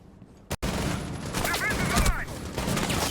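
Rapid gunfire crackles loudly in a Rainbow Six Siege gunfight, with a sharp burst followed by a dense, sustained fusillade of shots and a brief voice underneath.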